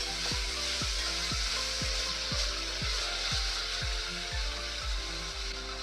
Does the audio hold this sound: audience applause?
no